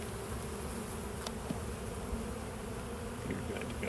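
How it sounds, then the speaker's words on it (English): Honey bees buzz steadily throughout a beehive inspection, a dense, continuous drone of many wings close by, with occasional louder passes as field bees fly up from a tub where frames are shaken off. "You notice the bees that are flying are mostly field bees that'll be flying out of the tub."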